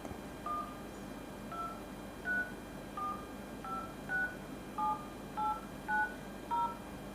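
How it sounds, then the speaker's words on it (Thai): Keypad dialing tones sound from a Vivo Y11 phone during a screen test after repair, a series of about twelve short, distinct beeps spaced irregularly and heard alone over a quiet background. "เราก็มาลองเทสดูว่า เวลาเรากดเลขเนี่ยครบหรือเปล่านะครับ"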